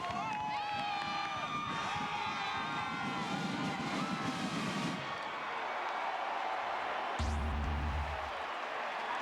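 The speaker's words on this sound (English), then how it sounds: "This crowd again is electrified. And I mean, they are making some noise." A stadium crowd at a 2004 college football game between Oklahoma and Texas A&M roars continuously and loudly, with whistles and shouts over the din and a deeper rumble joining near the end.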